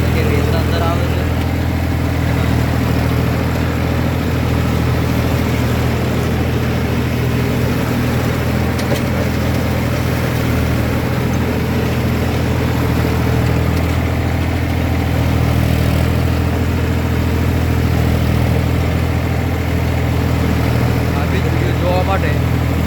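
A tractor engine drones steadily under load as it drives a Shaktiman rotavator cutting through banana stalks in a field. The heavy, even rumble holds constant throughout without breaks.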